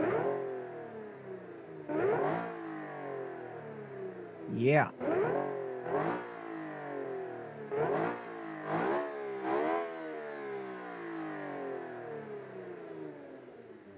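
A car engine revs repeatedly, rising in sharp bursts between steadier idle stretches, close and moderately loud, with a brief word spoken.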